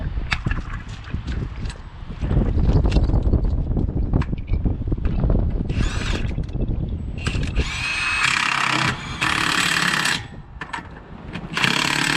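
Power tool whirring and rattling in bursts as it tightens a truck wheel to torque spec, loud and close with pauses between runs and a harsh, gritty whine throughout.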